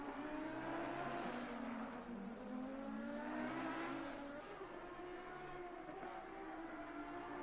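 Race cars lapping a track through a chicane in Assetto Corsa Competizione during a Lamborghini event: engines whine and rise and fall in pitch as cars pass, moderately loud with no talk.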